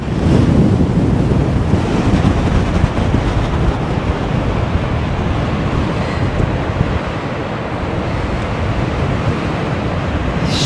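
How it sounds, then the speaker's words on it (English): Strong wind buffets the microphone over a continuous wash of ocean surf on a blustery coast near the southern tip of Africa, a loud, unbroken roar throughout. "Sure, it's windy, eh?"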